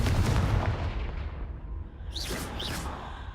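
Confringo blasting spell cast in Hogwarts Legacy: a heavy explosive boom up front that fades into rumble, followed by two quick whooshing magical swishes near the end.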